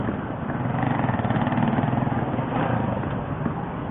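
A queue of motorcycles idles at a roadside checkpoint in Pampanga, a Yamaha Mio i 125 among them, giving a steady, close, pulsing engine drone with a faint voice in the background.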